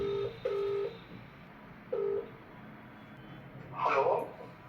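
Several short electronic telephone keypad tones beep in sequence with pauses between, followed by a brief burst of ringing or connection sound, fairly faint.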